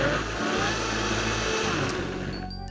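A blender whirs loudly and continuously, blending cashew cheese after lemon juice is added, with a steady motor drone that slightly changes pitch and tapers off at the end.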